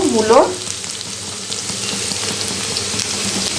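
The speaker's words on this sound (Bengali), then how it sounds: "মূলো দিয়ে আবার ভেজে নেব।" Radish and potatoes fry in a pan with a steady, loud sizzle throughout, a short clatter at the start, no voices.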